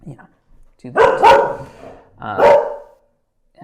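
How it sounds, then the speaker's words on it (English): Chloe, a pet dog, lets out a few loud, close barks in two bursts, mixed with a man's speech. "that is my dog Chloe agreeing with me"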